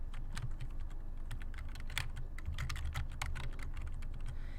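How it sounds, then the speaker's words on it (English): Fingers tap out a search on a computer keyboard in a steady run of close, crisp key clicks with brief pauses, over a low background hum and no voices. "you can type it in here"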